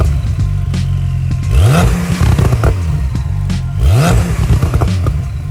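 A twin-turbo 3-liter flat-six sports car revs hard and loud, with two rising engine sweeps as it accelerates through the gears and a rough, crackling, clattering edge, and no voices.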